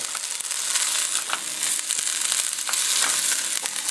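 Soy sauce and black pepper sizzle in a hot pan with pork fried rice, a loud, close, steady crackle broken by light scraping stirs throughout. No voices.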